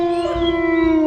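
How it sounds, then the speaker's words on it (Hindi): Several dogs howling together outside on a street at night, a steady drawn-out wail held throughout with faint lower background noise, moderately loud and with no talking. "बाहर रास्ते में कुछ कुत्ते जोर जोर से भौंक रहे थे।"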